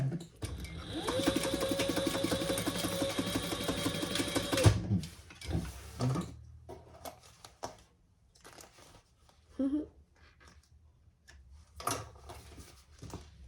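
A sewing machine runs in one steady burst, stitching a bag gusset, then stops and gives way to quieter fabric rustling and handling sounds.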